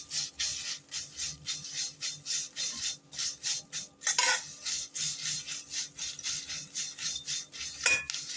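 A spoon scrapes and stirs dried avarampoo herbs with cardamom powder as they dry-roast in a pan for herbal tea. The stirring is steady and rhythmic, with a few sharper clinks, and no one speaks.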